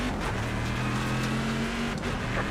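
Steady engine drone from a race car in the iRacing sim game, an older-spec machine, holding a fairly constant pitch throughout with a brief dip near the end, loud and close with no talk.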